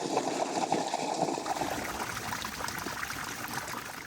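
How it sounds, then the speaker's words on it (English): Water drains out of the bottom of a Pentair 4000 D.E. pool filter canister through the open backwash valve, a steady close rushing trickle with gurgling that continues throughout, no speech. "It opens the bottom of the filter canister to let all the water in the canister out."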